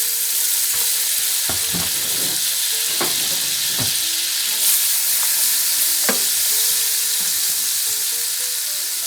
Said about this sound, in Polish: I na tak rozgrzany tłuszcz kładziemy bezpośrednio nasze kromeczki chleba z jajuszkiem